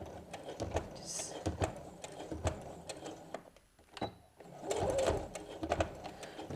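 A sewing machine stitches through thick apron layers in short rhythmic bursts of close mechanical chatter, pausing briefly before running again.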